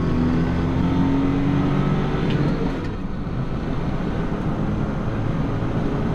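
A Datsun 240Z imported from Japan, fitted with upgraded wheels, tyres, brakes and suspension, drives fast on a race track, its engine roaring loudly and steadily with no one talking.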